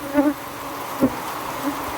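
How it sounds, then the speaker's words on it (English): Africanized honey bees buzz around their undisturbed colony, a soft steady drone with a few brief, louder individual bee passes close by. "the bees have not been disturbed by my manipulation of their colony"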